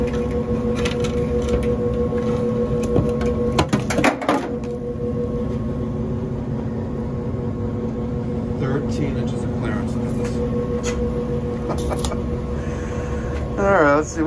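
A Rheem 90% gas furnace blower motor hums loudly and steadily during startup, with a droning tonal whine and occasional rattles and clunks; muffled voices are faintly heard in the background.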